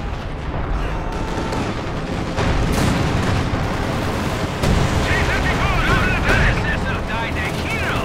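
Dense, loud battle noise from Company of Heroes 2 fills the scene, with continuous gunfire, booming blasts and rumbling explosions layered under steady talk.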